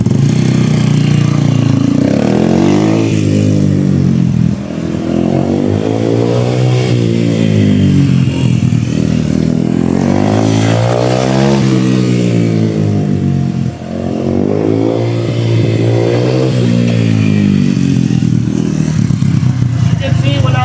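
A big-wheel motorcycle on a mountain road slows on engine braking without front or rear brakes, its engine note falling and rising in long sweeps while someone talks over it continuously.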